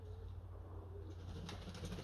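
Pet pigeons coo softly in the background over a steady low hum, with a faint rustle of wings near the end.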